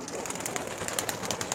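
Kalshira and Fulshira pigeons coo close by, a continuous overlapping stream of soft rolling murmurs and faint chirps from the flock.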